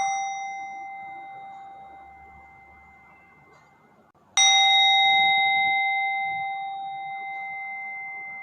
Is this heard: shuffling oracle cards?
no